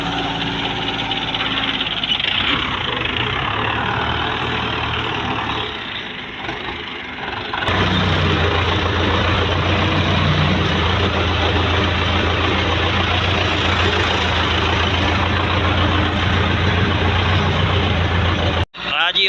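A Russian Belarus tractor engine labours in a sand pit, a steady loud diesel drone that dips briefly, then surges back heavier and holds at full throttle until a sharp knock near the end.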